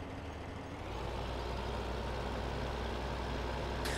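A tractor engine in Farming Simulator 15 drones steadily with a deep low rumble throughout, loud and continuous, with a brief hiss near the end and no one talking.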